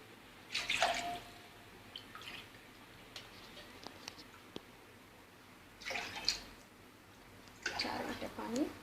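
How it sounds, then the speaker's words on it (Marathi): Water being poured into a pot to make sugar syrup for gulab jamun: a few short splashing bursts, near but quiet, separated by stretches of near-silence. "4 वाट्या पाणी घालायचं।"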